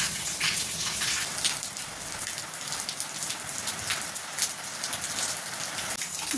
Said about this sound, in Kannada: ಮಳೆ ಜೋರಾಗಿ ಬರ್ತಾ ಇದೆ